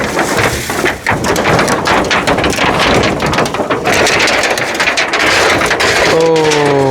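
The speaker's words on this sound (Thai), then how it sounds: "ฝนตก" Rain falls outdoors near a stream as a loud, dense hiss, with wind buffeting the microphone throughout and a brief tonal sound near the end.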